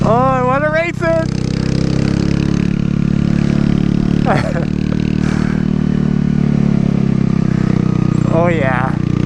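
A 125cc motorcycle on a test ride after a custom bike build, its engine a constant loud drone under wind while a rider shouts and whoops in short bursts.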